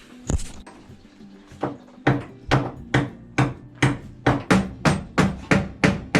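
A hammer bashing a pin through a hinge on an oven on a scrap boat, starting with a few irregular blows then settling into a steady run of about a dozen sharp metallic strikes, close and loud.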